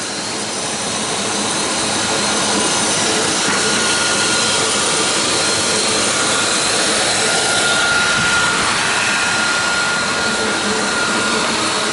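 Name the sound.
automatic metal chain zipper waxing and lacquering machine running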